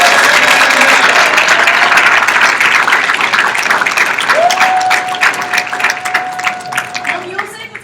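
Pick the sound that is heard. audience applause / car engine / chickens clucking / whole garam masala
audience applause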